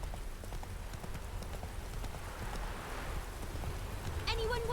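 Clip-clop of a horse named Roach running, a steady patter of hooves over wet, rainy ground, with rain hiss throughout and a brief voice near the end.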